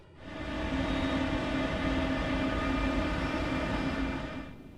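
Wilco Airbus A380 jet engines in Flight Simulator X, a steady droning hum with a faint whine, fading in, holding level and easing out, alone.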